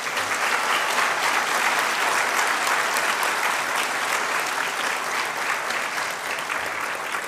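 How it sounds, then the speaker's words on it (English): Dense, sustained applause from a large audience at a university convocation ceremony, steady and loud throughout with no voices rising above it. "a round of applause, please."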